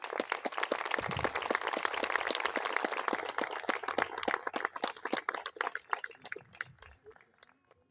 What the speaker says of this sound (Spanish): Damos un fuerte aplauso y lo recibimos.